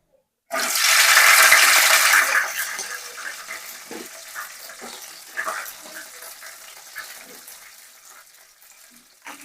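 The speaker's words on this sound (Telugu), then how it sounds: "ఆయిల్ అయితే వేడెక్కింది ఇప్పుడు అందులో కట్ చేసి పెట్టుకున్న పచ్చిమిర్చి వేసుకుందాం" Chopped green chillies dropped into hot oil, a sudden loud hiss and sizzle that bursts in and then gradually fades to a quieter crackling fry with scattered pops.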